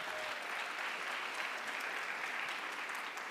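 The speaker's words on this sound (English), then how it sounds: "Would you guys please give them a round of applause?" Steady round of applause from a crowd at a school district Teacher of the Year celebration, dense and continuous clapping that stays even throughout.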